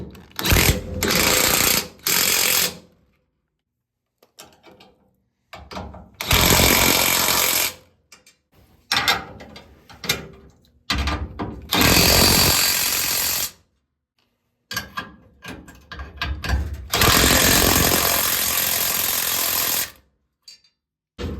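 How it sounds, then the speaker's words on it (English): An impact wrench tightens trailer hitch bolts on a Ford Ranger, firing in loud, close hammering bursts of one to three seconds, separated by short silences. "or the impact wrench, torque them down a little bit"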